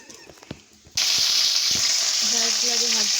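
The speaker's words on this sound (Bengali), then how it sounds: "পেঁয়াজে ভাজছে।" Onions hit hot oil in a pan with a sudden loud sizzle that carries on as a steady hiss, after a few soft kitchen clatters.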